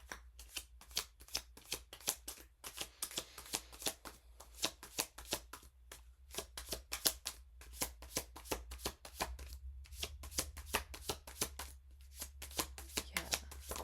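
Tarot cards being shuffled steadily and close up, a fast continuous stream of crisp card slaps and riffles lasting the whole stretch with only brief pauses.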